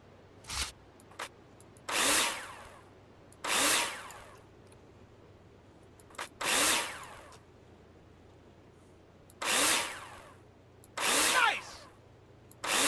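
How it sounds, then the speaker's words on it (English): Power drill bursts from the Builder Simulator video game as screws are driven into plasterboard, about six short whirring runs of one to two seconds each, separated by brief pauses and faint clicks, with no talking. "Take your drill out and screw them in."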